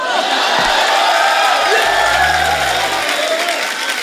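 Studio audience applause and cheering on a Hindi TV comedy talk show greeting arriving film stars, loud and sustained as a dense crowd wash with whoops, while a deep voice or music swell rises briefly partway through.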